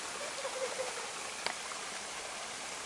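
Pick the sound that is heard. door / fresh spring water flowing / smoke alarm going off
fresh spring water flowing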